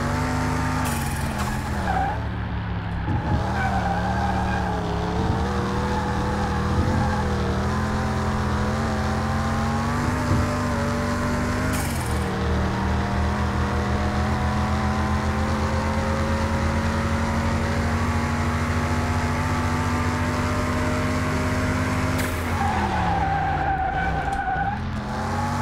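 Sports car in the game Car Mechanic Simulator 2021 skidding around a race track, a sustained tire squeal over a steady engine drone, with engine pitch shifting through corners and short breaks between slides.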